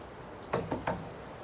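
Three quick knocks on a motel room door, fairly close but soft, over a steady background hiss with no talking.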